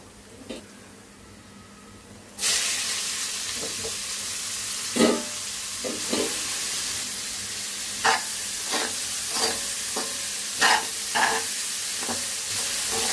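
Salted boiled potatoes stir-fried in a hot pan: steady sizzling starts after a quiet moment, with repeated spatula scrapes and clinks against the pan.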